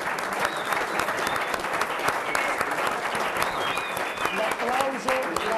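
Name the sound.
applause with some whistling from the stands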